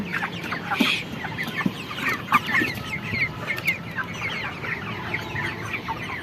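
A flock of 31-day-old broiler chickens on a farm clucks and chirps continuously. Several birds are audible at once, nearby and at moderate loudness, with overlapping calls and no talking.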